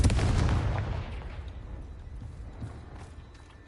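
A Confringo fire spell cast in Hogwarts Legacy, a loud booming fiery blast that hits at once with heavy low rumble, then decays over a few seconds into a crackling, fading tail.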